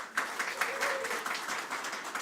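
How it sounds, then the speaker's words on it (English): A graduation ceremony audience gives a round of applause, a moderate patter of many hands clapping at some distance, with speech mixed in. "That's not going to be a loud enough clap for Leonie"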